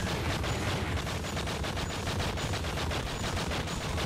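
Rapid automatic gunfire rattles in the video game True Crime: Streets of LA, a dense, loud, continuous burst of shots with a steady fast rhythm and no talk over it.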